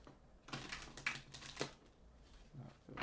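Tarot cards being shuffled in quick, soft riffling bursts, close and fairly quiet, with short pauses between passes.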